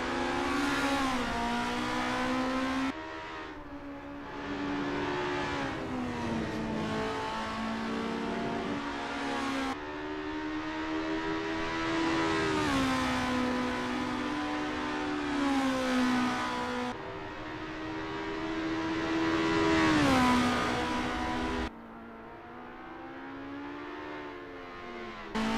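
Racing video game cars at Zandvoort on a practice out lap. A whining engine note climbs and falls through repeated gear shifts, with the revs surging and dropping in waves and a brief cut near the end. No one speaks.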